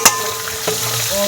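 A pan of browned onions fries as garlic and ginger go in: a quick clatter at the start, then a close, bright sizzle and scraping stir that lasts about a second.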